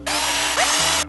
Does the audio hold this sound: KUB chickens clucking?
no